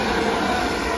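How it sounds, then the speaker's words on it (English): A brief burst of a mail train rushing past, a loud, steady rumbling roar of rolling wheels, close by. "now approaching, I have what we believe to be a mail train"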